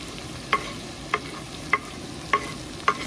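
Finely chopped onions fry in a pan for a dhaba-style Pindi chhole, a soft steady sizzle punctuated by five evenly spaced stirring taps, with no one talking.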